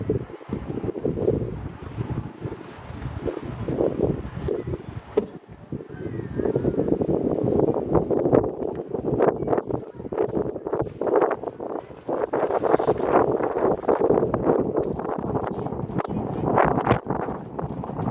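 Strong wind buffets the microphone outdoors at a flower festival in Coteau-du-Lac, a constant rumbling roar that gusts louder and softer over several seconds.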